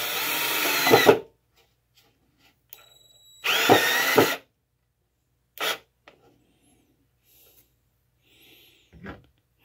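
A power drill drives screws into a taxidermy shoulder mount in three short bursts, two longer whirring runs and a brief final zip, close and loud against near silence, with faint clicks and handling noises between.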